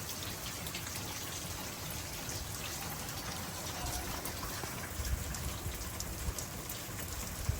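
Steady rain pours down outdoors over a cornfield, a dense continuous hiss of drops with occasional heavier splashes, no voices.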